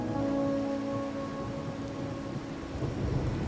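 Steady rain falls in the video game Wuthering Waves, a continuous wash of rainfall with a low thunder-like rumble beneath it and some faint musical tones, heard alone without voices.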